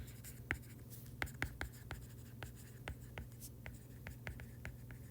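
Someone writes out an answer in an algebra lesson on bivariate data, producing quiet close scratchy pen strokes in short irregular bursts, with faint speech in the background.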